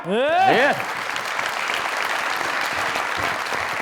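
A studio audience on a comedy talk show breaks into applause, a short loud burst of clapping that fades into a lingering crowd murmur as a voice speaks.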